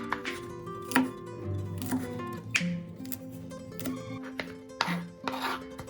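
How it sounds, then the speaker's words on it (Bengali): A knife finely chops ginger and garlic into small dice on a board, giving a run of quick, close, irregular taps and scrapes with short pauses between bursts. "তাই এটাকে ফাইন করে চপ করে নিচ্ছি একদম।"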